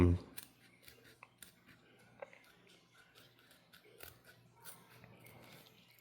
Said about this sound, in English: So what I'm gonna do now is I'm gonna go ahead and cut, and be mindful.